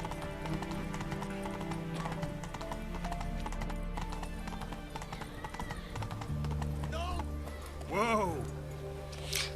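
A horse gallops in The Witcher 3 with rapid clip-clop hoofbeats under music, growing louder toward the end with a whinny-like cry near the close.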